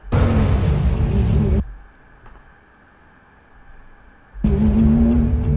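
A Lamborghini engine revs loudly and close, a deep roaring burst that cuts out into near silence before surging again.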